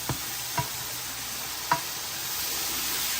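Masala for a catfish curry cooks in a pot, giving a steady close hiss of sizzling with a few brief clinks of stirring near the start.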